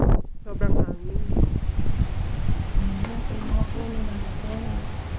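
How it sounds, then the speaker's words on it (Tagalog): Loud wind buffeting the microphone in a steady roar at a house garden in Silang, Cavite, Philippines, with birds chirping faintly behind it and a brief voice at the start. "And ang sobrang hangin."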